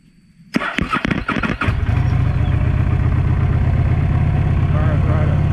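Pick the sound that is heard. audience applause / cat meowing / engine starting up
engine starting up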